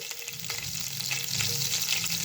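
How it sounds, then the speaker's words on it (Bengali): Chopped garlic dropped into hot oil left from frying tangra fish, a loud dense crackling sizzle, close and continuous, with no talk. "তো এই তেলের মধ্যে দিয়ে দেবো আমি রসুন কুচি"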